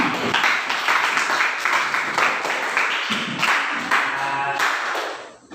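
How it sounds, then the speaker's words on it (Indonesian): A school class applauding together in a classroom, a burst of many hands clapping at once, loud and close, that slowly thins out and fades toward the end. "Beri aplaus dulu ya untuk kita semua."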